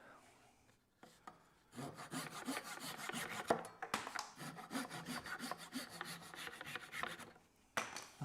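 Hand saw cutting off protruding wooden tenon ends on a Morris chair build, a rhythmic series of rasping back-and-forth strokes that start after a few quiet knocks and run steadily to the end, close and clear with no talk.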